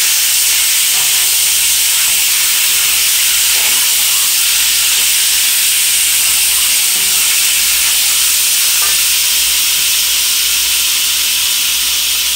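Marinated chicken for a Jamaican curry stir fried in hot oil in a pot, giving a loud, steady broadband hiss and sizzle that continues without a break, with faint clinks of stirring underneath.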